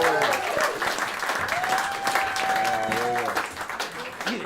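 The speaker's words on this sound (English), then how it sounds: "Round of applause." A round of applause from the audience at a Red Dwarf 30th anniversary stage show, steady clapping throughout with a voice speaking over it and a sustained sung or hummed tone in the middle.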